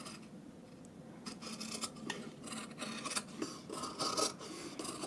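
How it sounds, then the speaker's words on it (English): Scissors snip through fabric beside a zipper during garment sewing, a quiet run of close, crisp cuts and rasping blade strokes with no talking. "And then you're going to take your scissors and just go in the middle"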